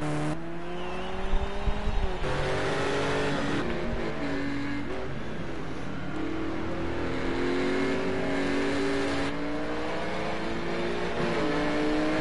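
Porsche GT4 race cars at Catalunya roar steadily down the front straight, engines loud and sustained with rising pitch sweeps as they accelerate and pass close by, no talk over them.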